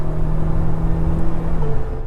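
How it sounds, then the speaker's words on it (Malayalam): A Tata Safari with a petrol engine drives along at steady speed, a continuous low engine drone mixed with road rumble heard from inside the cabin. "ഇതിൻ്റെ എൻജിൻ വോയിസ് കുറച്ചുകൂടെ കുറവാട്ടോ നമ്മുടെ ഹാരിയർ വെച്ച് നോക്കുവാണെങ്കിൽ"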